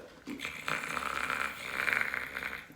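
A person imitates snoring with a raspy, nasal drone that rises and falls over a few seconds, close and fairly quiet.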